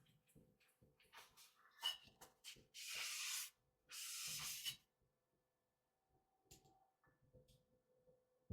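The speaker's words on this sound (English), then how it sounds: "and wipe it off with a magic eraser." A magic eraser wipes an engraved tumbler in two firm, close rubbing strokes of about a second each, with scattered light handling taps and a near silence between.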